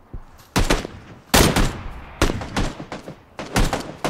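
Gunshots in a shooter video game: loud, close bursts of rapid fire in several clusters over about four seconds, with ringing tails between volleys.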